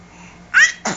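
A single sharp sneeze, close and loud, with a quick breathy intake just before and a short follow-through burst after.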